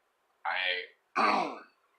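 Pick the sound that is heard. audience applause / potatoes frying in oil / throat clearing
throat clearing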